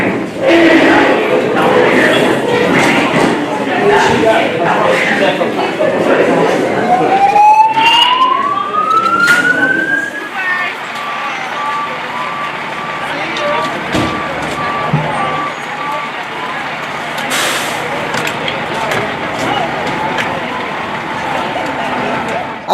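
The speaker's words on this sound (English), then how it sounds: "the fire alarm went off, prompting 3 fire trucks to arrive on the scene" Three fire trucks arrive at a Jersey City building after a fire alarm, sirens sounding. A rising siren wail cuts through loud, steady street and crowd noise, then fades into a lower background hum.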